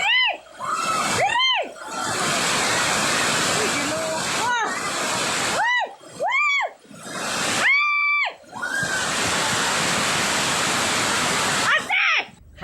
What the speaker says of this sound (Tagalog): naghaguros nga tubig baha sa daw sapa na nga karsada